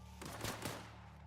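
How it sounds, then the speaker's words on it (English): Gunfire in The Outer Worlds, heard as a short burst of several quick sharp shots close together, fairly faint, over a low steady game hum, with no voices. "Who's shooting at me?"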